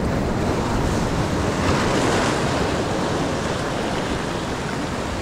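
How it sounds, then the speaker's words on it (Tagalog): Heavy ocean waves and strong wind roar loudly and continuously at sea during a fishing trip after a bluefin trevally strike, a dense wash of surf and wind noise that fills the whole stretch without pause. "Grabe ang alon."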